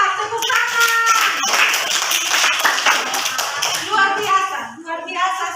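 Classroom clapping for a student: several people applaud close by, rhythmic hand claps overlapping with voices talking and chattering throughout.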